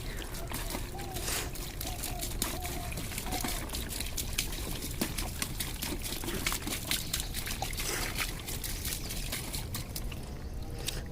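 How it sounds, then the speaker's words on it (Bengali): Water poured onto cucumber plants in a home garden, a steady trickling splash running the whole time, close by and fairly even, with a person talking over it. "শশা গাছগুলোতে একটু জল দিতে হবে তাই জল দিয়ে দিচ্ছি"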